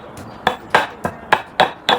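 Garlic pounded in a heavy metal mortar and pestle: seven loud, sharp metallic thuds at a steady, even pace, close up with no voices.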